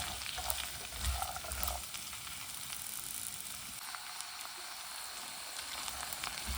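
Garlic frying in oil and being stirred in a pan for a Kerala-style garlic pickle: a steady, dense sizzle with scraping stir strokes throughout, close and fairly loud, with no talking.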